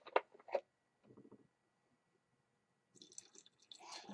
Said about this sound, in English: Then we pour in our vodka.